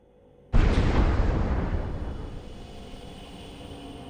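An explosion in a video game, set off by lighting a string with a match: a sudden loud blast after a brief quiet moment, followed by a long rumbling decay that fades over several seconds.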